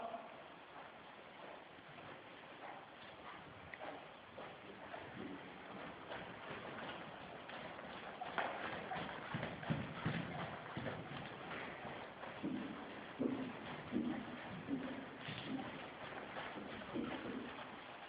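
A young horse's hooves clip-clop steadily as it walks and then trots, the rhythm quickening and growing louder partway through, with faint voices in the background.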